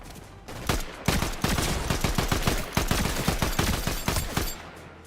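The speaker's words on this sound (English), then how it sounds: "Where's this guy shooting me from?" Rapid bursts of automatic gunfire in a Fortnite match, dense repeated shots in quick rhythm, loud and close, continuing for several seconds before cutting off, no talk.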